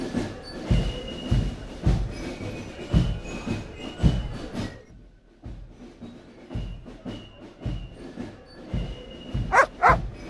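Dog barking in the point-and-click adventure game Broken Sword 2.5: The Return of the Templars, a series of short sharp barks repeating irregularly at moderate loudness, with a louder burst near the end.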